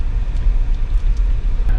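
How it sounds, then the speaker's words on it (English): A vehicle ferry under way, its engines making a steady, loud low rumble that continues unbroken throughout. "Ferry's underway."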